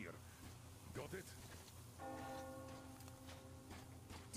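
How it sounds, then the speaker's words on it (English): A bell tolls in the video game Metro Exodus, its sustained ringing tones rising over a murky game soundscape of rustling and rumble, fairly quiet and distant, with a voice briefly present. "Do you hear that bell?"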